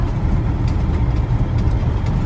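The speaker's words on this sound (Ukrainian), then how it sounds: "Трактор дискує, забиває край." A tractor discing a field during autumn sowing, its heavy engine a loud, steady low rumble close by, continuous with no talk over it.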